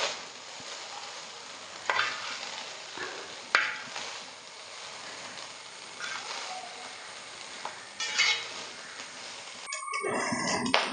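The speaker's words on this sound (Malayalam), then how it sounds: "ഹൈ ഫ്ലെയിമിൽ തന്നെ ഇട്ട് നമുക്ക് നന്നായിട്ട് ഇതെല്ലാം ഒന്ന് ഇളക്കി യോജിപ്പിക്കാം." Vegetable fried rice being stir-fried over a high flame, with repeated scraping and stirring in the pan over a steady sizzle and a few sharper clanks near the end.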